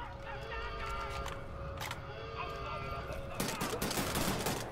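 Repeated gunfire in the video game Wolfenstein: The New Order, sharp shots scattered through a busy mix of game sound and music, with a heavier flurry of shots near the end under a low background.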